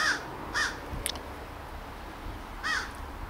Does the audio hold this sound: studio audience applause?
no